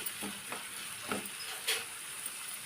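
Onions frying in a pan for a spiced aubergine and coriander curry, a steady low sizzle with a few soft stirring scrapes, close and alone without talk.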